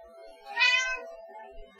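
A cat meows once, a clear rising and falling harmonic cry in the middle of the clip, fairly close, with a quiet indoor background and no talk.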